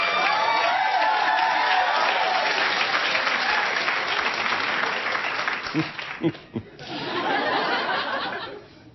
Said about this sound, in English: If you at home have ever wondered what the audience are cheering at